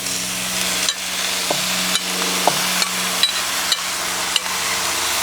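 Beef stew stirred in a pot over a campfire, with steady sizzling and a regular rhythm of metal scraping and knocking strokes against the pot, close and loud.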